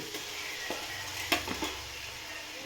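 Garlic sautéing in a pan for chicken biryani, a steady soft sizzle with a few sharp clinks of a utensil stirring against the pan.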